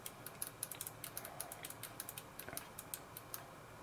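Gamdias Zeus gaming mouse with narrow main buttons clicking repeatedly, quiet crisp ticks in an irregular rapid series heard close up without talk.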